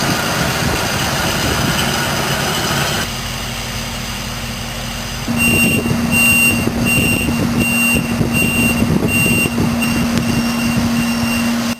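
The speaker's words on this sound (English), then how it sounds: "You can hear that reverse beeper." A heavy truck's reversing beeper chirps in a regular repeating pattern over a loud, steady diesel engine drone at a heavy-equipment work site, with no talking.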